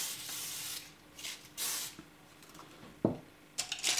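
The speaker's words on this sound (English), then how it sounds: "I take a section and I spray it at the root with the air control" Short bursts of hair spray hiss onto sections of short fine hair at the roots, several separate sprays of about a second each separated by quieter gaps, close and clear with no voices.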